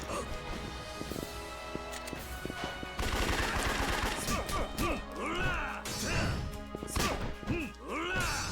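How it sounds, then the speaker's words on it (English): In the video game Yakuza 3, loud gunshots and smashing impacts ring out in quick bursts over a dense action soundtrack, with bursts of automatic fire in the second half. "Thank God these bullets don't seem to hurt Kiryu"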